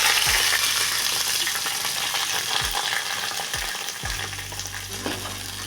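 Potato chutney mixture sizzles and fries in a pan on a gas stove while a spoon stirs it, with continuous hissing and a few soft scraping knocks against the pan, close and alone.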